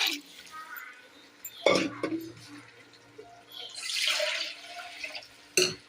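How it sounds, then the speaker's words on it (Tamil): Water pours into a pot of mutton curry in a splashing gush, between a couple of clanks of a pan or spoon, with faint talk underneath. "இப்போ இதுக்கு தேவையான அளவுக்கு தண்ணி ஊற்றிக்கலாம்."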